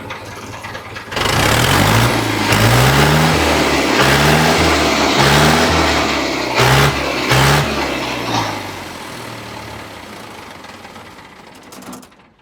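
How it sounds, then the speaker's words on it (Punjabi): A heavy tractor engine runs steadily and close by with a low, chugging rhythm, briefly revving before settling, then cutting off at the end. "ਇਹਦਾ ਆਵਾਜ਼ ਚੈੱਕ ਕਰਾਉਣੇ ਤੁਹਾਨੂੰ"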